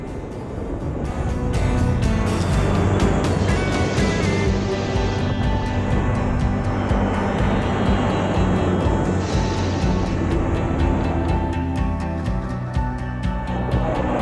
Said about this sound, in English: the planes come over pretty darn close